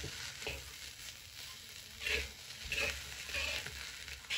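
Egg fried rice with chopped spring onion is stir-fried in a pan, a close crackling sizzle broken by repeated scraping and tossing strokes at an uneven rhythm, with no talk.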